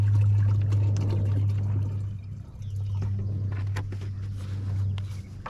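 Water mixed with water-soluble fertilizer pours from a container onto fig plants in a mulched garden, a steady close splashing gush under a low background hum, easing slightly midway before continuing.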